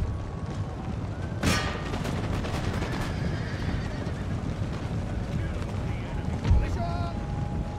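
Musket fire from mounted tribal gunners in an Empire: Total War battle: one sharp, loud shot early on and another later, over a dense battlefield din with horses and steady background noise.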